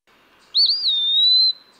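An Eastern wood pewee sings one clear, sweet whistled note that slides up and then holds steady, bright and close in quiet surroundings.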